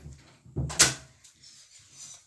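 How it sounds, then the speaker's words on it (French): A door swings shut in a home with a single solid thump and brief rattle, preceded by a faint shuffle and followed by quiet room tone and soft movement. "Je ferme la porte."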